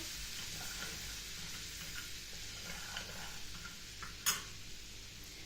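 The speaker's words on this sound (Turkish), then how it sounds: "Şöyle bir karıştırıyorum." Melted butter with salt and spices stirred in a pan, a soft steady sizzle with faint scraping, quiet and close, with one sharp tick near the end.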